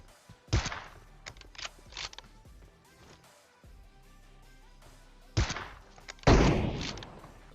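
Gunfire in the mobile shooter PUBG Mobile, a scatter of sharp cracks and rapid bursts, with two loud clusters near the start and two more heavy blasts toward the end, all close and punchy over quiet game ambience.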